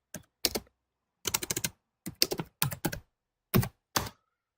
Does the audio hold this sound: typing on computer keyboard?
yes